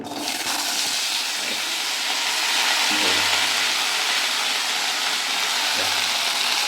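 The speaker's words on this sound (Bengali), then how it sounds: "গরম তেলের মধ্যে পড়েছে বলে একটা আওয়াজ আসছে" Green beans sizzling and frying in hot oil with black cumin, a steady broadband hiss that runs loud and unbroken, close up, with no talk over it.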